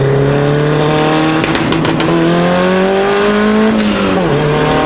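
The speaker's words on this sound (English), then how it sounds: "It goes good off that anti-lag." A modified car with an anti-lag system, likely swapped to all-wheel drive, accelerates hard and close, its engine note climbing through steady gear-like rises with sputtering pops and a brief dip near the end, loud and continuous without talk.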